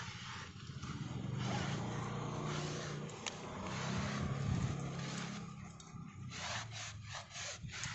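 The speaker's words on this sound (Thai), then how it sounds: "ฉีดทิ้งไว้ค่ะแป๊บหนึ่งนะแล้วก็เช็ดเลย" A cloth rubs and wipes across a car tyre after a spray of D66 dry-cleaning solution, giving close, steady scrubbing strokes that rise and fall in loudness, with no talking.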